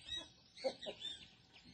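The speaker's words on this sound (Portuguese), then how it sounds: "as galinhas do vizinho já tá comendo" Soft, scattered clucks from chickens, faint and somewhat distant, in short irregular bursts.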